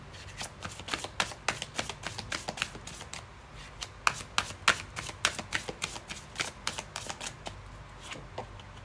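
Tarot cards are shuffled in quick, rhythmic riffles and taps, a close, crisp series of regular clicks and flutters running throughout without talk.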